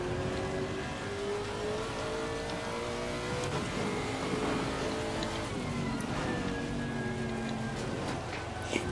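Steady rain hisses over a droning race car engine in the racing game Assetto Corsa Competizione at Brands Hatch, a continuous wash of noise with occasional faint tones rising and falling.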